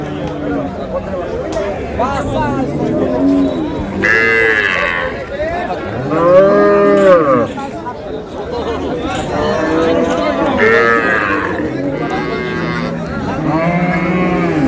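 Dairy cows and calves low loudly and close at Ambari cattle haat in Dinajpur, several long moos following one after another amid a dense crowd babble of people talking nearby.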